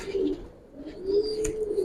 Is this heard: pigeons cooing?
yes